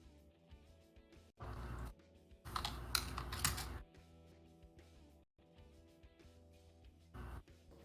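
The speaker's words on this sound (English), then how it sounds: "I heard that keyboard clack" Bursts of computer keyboard clacking during an online Super Mario Maker match, rapid keystrokes in short runs with pauses between, fairly close and clear with no talking.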